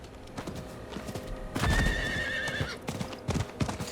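Horse hooves clip-clop in the Diablo 4 video game, a steady trotting rhythm up close, with a whinny and other game sounds layered over the middle stretch.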